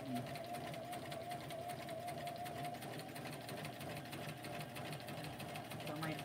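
A sewing machine stitching along the edge of a junk mail envelope, a steady fast mechanical whirring hum with a rapid needle rhythm, running throughout beneath a person talking.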